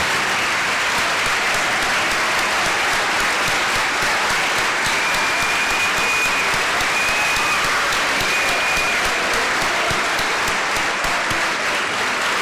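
Sustained, dense applause from an audience at the Golden Spartans athletic award ceremony as the nominated athletes stand, steady and loud throughout with no voices standing out.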